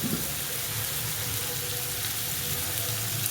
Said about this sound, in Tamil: இப்போ இது வந்து கொஞ்சம் வதங்கட்டும்